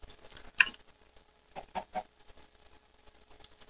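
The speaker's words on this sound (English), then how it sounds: "I swear to God, there's a chicken down here. I hear him." A chicken clucks faintly in a video game, a few short scattered clucks with quiet gaps between them.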